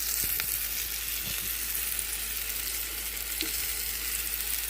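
Egg-and-flour-coated salmon bites fry in hot oil in a pan, a steady, moderately loud hiss and sizzle with a few faint pops and clicks and no one talking.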